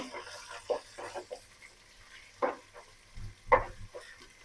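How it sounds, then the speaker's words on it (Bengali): Onions, green chilies and garlic paste fry quietly in oil, giving faint scattered crackles and pops over a soft hiss. "তেলে ভেজে নেব"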